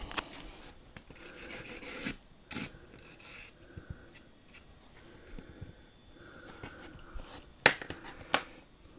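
Light, intermittent scratching and rubbing as grit is cleaned out of the lens compartment of a Polaroid SX-70 camera, close and quiet, with a few sharper ticks and scrapes scattered through it.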